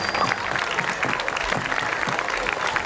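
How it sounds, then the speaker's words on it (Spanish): A crowd applauds at an outdoor festival show for an independence bicentennial celebration, dense, sustained clapping that fills the space with some cheering mixed in. "Un aplauso para todos ustedes."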